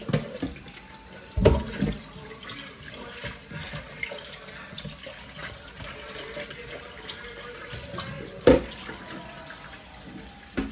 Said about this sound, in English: So now I'm gonna rinse it off.